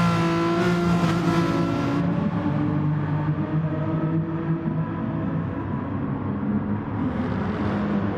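Several race cars in a racing video game at the Autopolis circuit close in on each other, their engines droning loudly and steadily with layered harmonic whine throughout, no talk.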